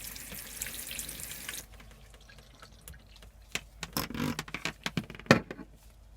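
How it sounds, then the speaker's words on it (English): Water runs from a pull-out shower head in a camper van, a steady hiss that cuts off and gives way to scattered drips and splashes, nearby and fairly quiet. "pull out on the shower head, and it can be used as the shower"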